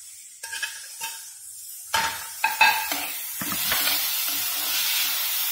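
Capsicum, carrot and tomato fry in a pan, starting with a few separate stirring clatters, then building into a steady sizzle and hiss that fills the rest, with no talking.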